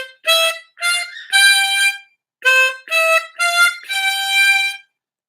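A short harmonica phrase played through, including blown notes on hole 13: seven distinct bright, reedy notes in two groups, the last one held longer, with a brief gap in the middle, close and clear, no talking.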